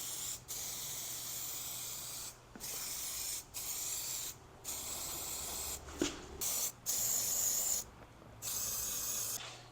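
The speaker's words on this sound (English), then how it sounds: "Spray down into that door handle, and then just run a nice bead along the door seal." Aerosol lubricant sprayed into the door handle and along the rubber door seal of a BMW E46, several sharp hissing bursts of varying length separated by short pauses, close and loud with no talking.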